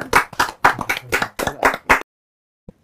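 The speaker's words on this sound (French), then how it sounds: "On applaudit Clément" About ten sharp claps in a quick, slightly uneven run on a French talk show, close and loud, ending abruptly into silence followed by one faint tap.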